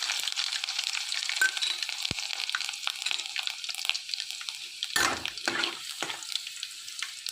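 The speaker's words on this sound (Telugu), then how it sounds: "తాలింపు దినుసులు వేగినాయి కదండి." Tempering spices and crushed garlic fry in a pan for a ridge gourd and drumstick curry, giving a steady, close hiss of sizzling oil broken by a few scraping stirs.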